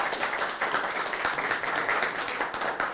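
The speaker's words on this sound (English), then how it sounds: "Give everybody a round of applause." A class audience gives a round of applause after a lecture game, a steady dense wash of many hands clapping at once, filling the room evenly with no voices over it.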